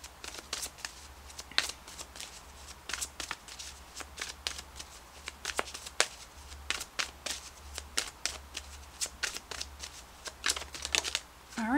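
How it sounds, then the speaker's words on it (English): Oracle guidance cards being shuffled by hand during a tarot-style reading, a steady series of quick, crisp riffling flicks close to the microphone, with no talking. "let's pull you an additional guidance card"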